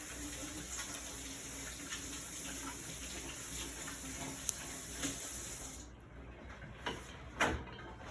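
Kitchen tap runs steadily while hands are rinsed off partway through making scones, a broad continuous water hiss that cuts out near the end, leaving a few faint splashes and knocks.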